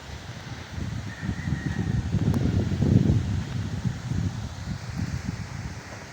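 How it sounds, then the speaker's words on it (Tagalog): Wind lingering during Typhoon Tino rustles leaves and buffets the microphone in a moderate, continuous churn that swells a little midway, with no voices. "mahangin pa rin."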